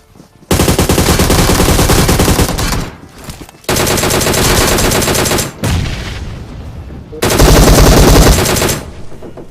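Heavy automatic gunfire from a PUBG Mobile squad fight: loud, sustained bursts of rapid shots in three long stretches separated by short pauses, close and dominant with no talk.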